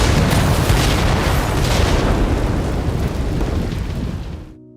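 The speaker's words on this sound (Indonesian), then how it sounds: "para polisi pun segera menembaki para perampok itu sampai mobil yang mereka tumpangi meledak di tempat" A loud, rumbling car explosion with a long roaring decay that fades out at the end, no voices present.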